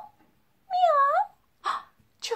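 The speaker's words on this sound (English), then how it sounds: "I can hear meow, meow." A cat gives a clear, close meow, followed by two shorter, softer mews, with quiet pauses between them.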